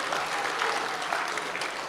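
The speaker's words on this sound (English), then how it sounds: "give him a clap, that's it." Steady applause from a delegate audience at an RSL NSW conference fills the hall, a dense, even wash of many hands clapping with faint crowd murmur beneath.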